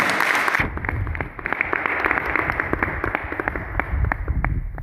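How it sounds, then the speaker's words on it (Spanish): An audience at a chess and education congress in Santiago de Chile gives Jorge a round of applause, many hands clapping steadily for several seconds after a brief loud opening. "Le brindamos un nuevo aplauso, por favor, a Jorge, por el tremendo trabajo que ha realizado."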